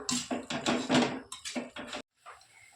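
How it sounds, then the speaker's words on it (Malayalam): Soya chunks with masala powder are stirred in a pan, a close run of loud scraping and clattering strokes of a spoon against metal that stops abruptly, followed by quiet. "നമുക്ക് നല്ലപോലെ ഒന്നിനി ഇളക്കി കൊടുക്കാം."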